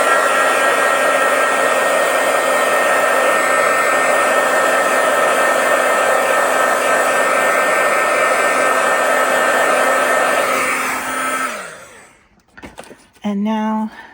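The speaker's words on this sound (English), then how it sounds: "I'm going to go ahead and hit this with a heat tool" A heat tool blows hot air over stamped craft paper, a loud steady whirring drone that runs unbroken for about twelve seconds before cutting off, followed by faint handling clatter.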